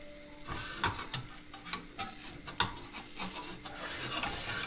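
Banana pancake of just banana and egg sizzling in a frying pan as it is flipped, a steady fry hiss with a few sharp scraping clicks of the spatula, close and fairly quiet with no talk.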